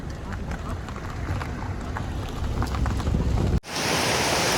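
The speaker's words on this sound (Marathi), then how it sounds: "पाऊस चालू झाला आहे" Steady monsoon rain hisses and patters outdoors at a village home in Khed, a dense wash of noise that cuts off abruptly and then resumes slightly brighter.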